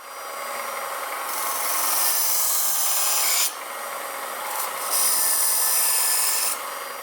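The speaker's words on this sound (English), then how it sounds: "So we're going to go ahead and sharpen this one real quick." An old Winchester pocket knife is sharpened on a Work Sharp sharpener, giving a steady abrasive rasping grind in two long passes with a short pause between them, close and fairly loud, with no speech.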